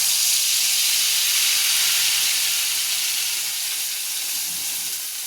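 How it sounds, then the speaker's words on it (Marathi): Loud, steady hiss of tempering spices sizzling in hot oil for paneer masala, a continuous bright crackle that fades slightly toward the end, with no voices. "मी आता फोडणी देते"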